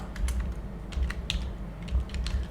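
Typing on a computer keyboard while filling in a product listing, quick uneven clusters of light close key clicks over a low room hum, with no voices.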